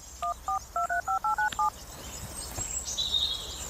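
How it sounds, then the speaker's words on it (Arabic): Ten quick dual-tone keypad beeps of a telephone number being dialed, evenly spaced in a steady run, then fading into quiet background hiss with faint high chirps. "اي عندك الحق، غنعيطو في التليفون."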